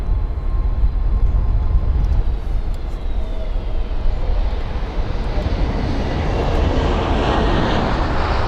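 Jet engines of an Emirates Airbus A380-800 at Heathrow roar loud and close, a broad, steady rumble that swells toward the end with a rising high whine.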